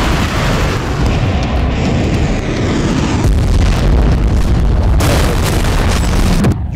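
A heavy, continuous roar of blasts and rumbling from an explosion in the Russia-Ukraine war, loud and dense throughout, with sharper bursts breaking in partway through.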